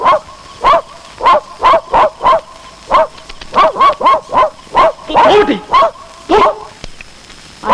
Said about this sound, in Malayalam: ഇതെന്താ ഈ പട്ടി അവിടെ തന്നെ നോക്കി കുറയ്ക്കുന്നത്?